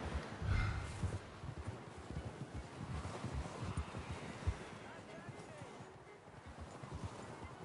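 A horse's hooves clop at a walking pace in the video game Red Dead Redemption 2, a soft irregular patter under light wind ambience and occasional voice.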